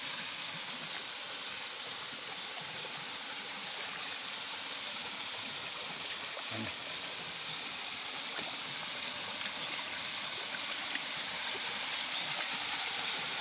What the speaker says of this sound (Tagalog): Ibaba ito ng talon. Kaya malakas ang ingay.